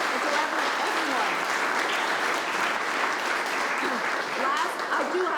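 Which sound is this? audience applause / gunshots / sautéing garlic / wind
audience applause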